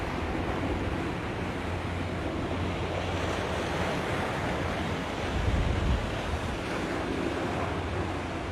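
Ocean waves wash in at Ala Moana Beach in Hawaii as a steady roar of surf mixed with wind buffeting the microphone, with one slightly heavier surge toward the end.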